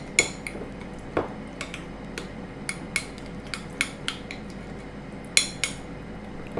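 Spoon stirring and mixing a paste for a chicken wrap in a bowl, with irregular sharp clinks of utensil against the bowl over a quiet, soft scraping background.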